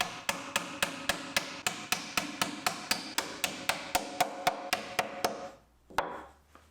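A hammer taps domino joints into wooden gate rails in a fast, even series of about twenty sharp, close knocks, then a short pause and one last blow.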